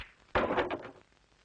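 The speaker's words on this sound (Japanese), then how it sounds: "こうなれば正面から堂々とドアの一部を開けさせていただいてと" A door opens in a 1969 Moomin cartoon, one short wooden rattle-and-bump burst that fades after about half a second, heard alone.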